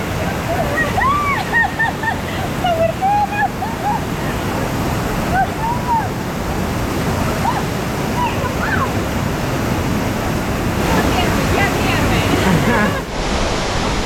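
Rushing water flows steadily and loudly through a canyon stream near Kalkan and Kaş, Turkey, a broad continuous roar with bird calls piping faintly through it.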